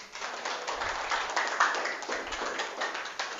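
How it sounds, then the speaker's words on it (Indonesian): A small class claps for Zaki, a pupil who has just answered a maths question, with light, scattered hand claps at modest loudness and no talking. "Untuk Zaki tepuk tangan dulu."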